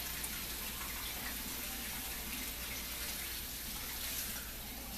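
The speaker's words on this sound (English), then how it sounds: "I'm just using warm water out of my faucet." Warm tap water runs steadily from a kitchen faucet into a water bath for a breakfast cheesecake, a constant broadband rush with no pauses, fairly close and alone without talk.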